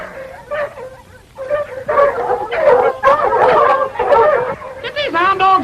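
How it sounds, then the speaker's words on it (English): Hound dogs barking, yipping and howling together in a noisy, close chorus of overlapping calls that rises and falls over several seconds. "Get these hound dogs out of here."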